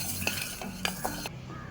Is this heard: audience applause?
no